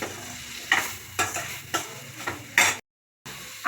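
Shawarma filling is stirred in a pan in a home kitchen, with a steady low sizzle under repeated scraping strokes of the spoon about every half second, then a brief dead silence before the frying returns.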